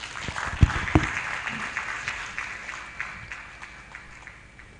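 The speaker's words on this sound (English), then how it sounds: "Please let's give Mrs. Adeshide a round of applause once again, ladies and gentlemen" Audience applause at a national extractives dialogue in a hotel hall, opening with a couple of sharp loud claps before settling into steady clapping that gradually thins and fades.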